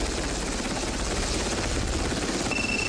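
Anti-submarine helicopter operating from a modern naval destroyer, a steady loud rotor and turbine roar filling the whole stretch with no talk.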